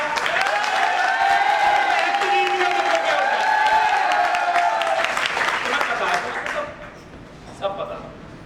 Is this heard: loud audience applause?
yes